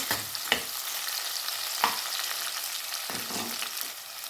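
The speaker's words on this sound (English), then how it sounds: "cook this till the onions are light brown in color" Sliced red onions fry in a pan for a jackfruit and potato curry, with a steady close sizzle and a few sharp scraping stirs and clacks of a spoon, with no talk.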